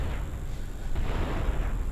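Explosions from the video game GTA San Andreas, a dense, continuous rumbling roar of blasts and booms filling two seconds without pause, loud and close with no talk.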